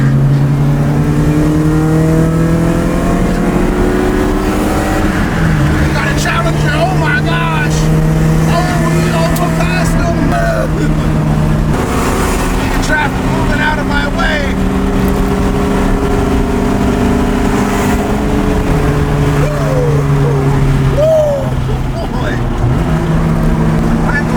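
A 1993 Honda Civic engine is driven hard, loud revving with rising and falling pitch as gears shift, close and continuous, with a voice talking excitedly over it.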